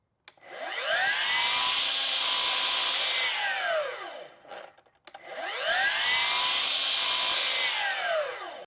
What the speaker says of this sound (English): I want you to hear this thing starting up. An extremely powerful saw.